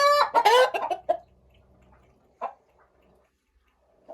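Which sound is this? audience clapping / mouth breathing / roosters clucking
roosters clucking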